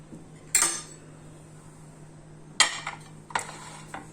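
A low-fat hamburger bun is moved into a serving dish. Three sharp, close utensil-on-dish clinks are separated by quiet pauses, and the last one trails into a few lighter taps.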